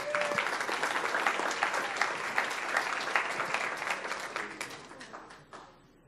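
An audience at a school board meeting applauds the school counselor with sustained, moderately distant clapping that holds steady and tapers off at the end.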